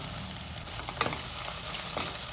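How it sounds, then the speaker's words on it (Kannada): Soaked soya chunks fry in a pan with a steady, moderate sizzle, broken by a few soft stirring scrapes and clicks close up. "ಚಂಕ್ಸ್ ಕೂಡ ಇಲ್ಲಿ ಫ್ರೈ ಮಾಡ್ಕೊಳ್ಬೇಕು"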